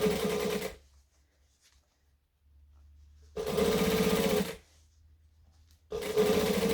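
A sewing machine stitches a lunging pad in three close, steady bursts: a short whir, a longer run after a pause, then another start, with quiet gaps in between and no talking.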